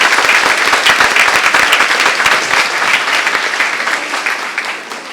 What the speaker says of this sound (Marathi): आपण टाळ्या वाजून त्यांचं अभिनंदन करूया